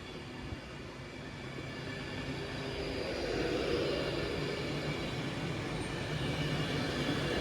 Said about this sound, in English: heading off to London Euston. And departing now from platform 3